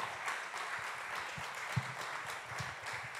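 An audience in church applauds at low volume, a continuous patter of many hands with a few sharper individual claps standing out now and then.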